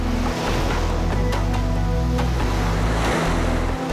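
Loud surf crashes and churns at the foot of a 300-foot Spanish sea cliff where goose barnacles grow, a close, continuous roar of breaking waves buffeted by wind, with no voices.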